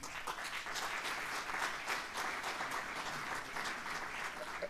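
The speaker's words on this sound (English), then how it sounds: "let's really give a round of applause to the MEC" A crowd at an education breakfast meeting claps steadily for several seconds, a dense, even wash of applause with no voices rising above it.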